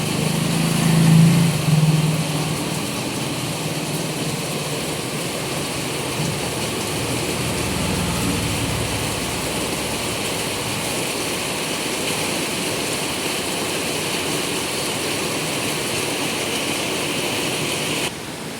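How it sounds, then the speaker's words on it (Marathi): Heavy rain pours down in a loud, continuous roar, with a low rumble near the start and no voices. "किती मस्त पाऊस पडतोय बघा"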